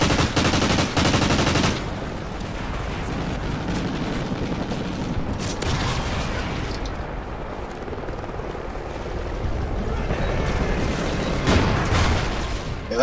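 Rapid automatic SMG bursts and sniper rifle shots ring out in a video game firefight, dense and continuous gunfire with loud sharp cracks near the start and end.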